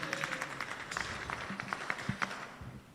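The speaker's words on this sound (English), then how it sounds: "Let us give Dr. Oyugi an applause for that coordination" Audience applause at a university graduation ceremony in an amphitheatre, a steady wash of many hands clapping at moderate distance, continuous for about three seconds.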